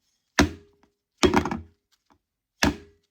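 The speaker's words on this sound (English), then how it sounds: "A way to remedy that is just an easy banging down the coaster." A freshly poured fluid-art paint coaster is rapped down on a hard surface to release air bubbles, giving three distinct hollow thunks spaced about a second apart, close and fairly loud against silence.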